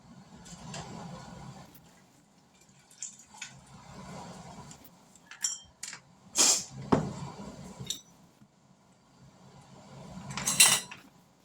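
Glass canning jars knocking and clinking together as they are lifted out for tomato sauce, a few sharp bright clinks among soft rustling and handling noise, close by.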